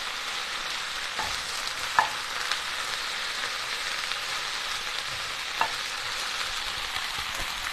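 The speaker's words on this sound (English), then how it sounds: "I'm going to give my bok choy a stir" Bok choy sizzles steadily in a hot pan, a constant close frying hiss broken by a few soft scrapes and taps as it gets stirred, with no voices.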